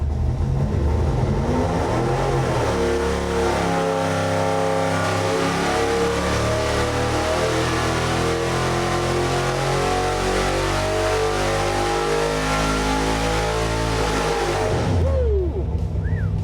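A junkyard Ford 445 FE V8 with modern EFI roars at wide open throttle on a dyno, the pitch climbing steadily through a long, loud pull before the throttle snaps shut and the engine winds down.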